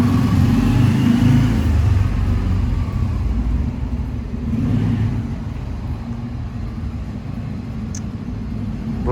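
A car's engine revs up and pulls under gas, a mid-pitched rumble that swells, eases briefly and climbs again, close and fairly loud, with no talking.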